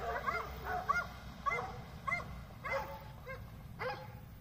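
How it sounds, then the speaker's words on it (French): Several dogs barking at a mountain river spot in Greece, a series of sharp barks every half second or so at moderate distance over a low rumbling background. "Il y avait d'autres chiens."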